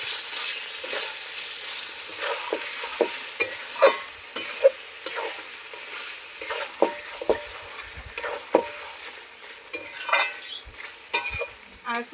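Chicken curry meat being stirred and fried in oil in a pan, with a steady close sizzle broken by repeated scraping and clinking strokes of the spoon against the pan.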